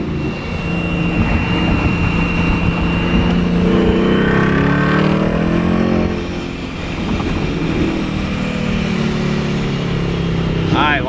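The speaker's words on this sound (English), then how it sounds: "You can hear the blow-off valve a lot more." Supercharged Ford Mustang 5.0 with a centrifugal blower and MBRP exhaust, heard from the cabin as a steady loud engine drone with supercharger whine, a brief drop and release around the middle like a blow-off valve venting, with a voice talking over it.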